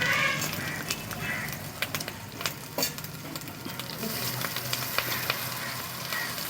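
Chilli, turmeric, cumin and coriander powders with a spice paste frying in hot oil, a continuous close sizzle broken by repeated spoon scrapes and taps against the pan.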